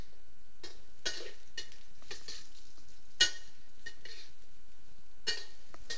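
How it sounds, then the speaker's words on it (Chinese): Tofu skin (baiye) stir-fried with garlic in a pan, with a light sizzle under scattered scraping and clinking strokes of a utensil against the pan, irregular and fairly close, without any voices. "略微拌炒之后"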